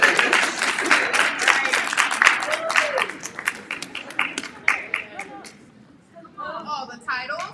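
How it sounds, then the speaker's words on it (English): A crowd at a Black women's inaugural event claps warmly in a moderate burst that tapers into a few scattered claps, with a voice speaking through and after it. "So I'd like to give her a warm round of applause."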